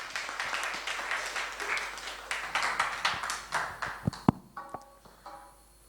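Audience applause at a ghazal and poetry gathering, a burst of scattered clapping that thins into a few separate claps as it fades out.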